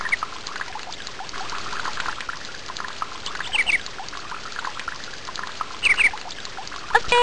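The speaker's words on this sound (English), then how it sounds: "the water will flow freely again" River water from the video game Once Upon a Forest flows in a soft, steady trickle and pour. Faint sparkling chimes come through now and then over the continuous stream, and no one speaks.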